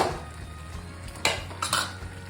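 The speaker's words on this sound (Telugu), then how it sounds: "అడుగు రాకుండా తిప్పుతూ ఉన్నాను." Utensil scraping and clinking in a pan while gongura prawn curry is stirred to keep it from sticking, with a few louder scrapes standing out over soft background noise.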